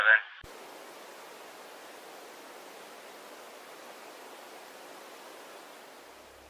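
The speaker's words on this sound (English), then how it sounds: "the voice faded into silence and was replaced by static noise" Steady broadband radio static hiss, moderately faint and unbroken, takes over after a brief voice-like burst at the start and runs alone to the end.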